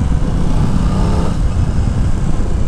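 A 2021 Aprilia Tuono 660 motorcycle engine running loud and close, with a steady, throaty rumble and a slight rise in revs partway through, heard alone without talk.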